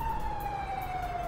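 A police siren wails in a single long, slowly falling tone, clear and fairly close over low traffic rumble.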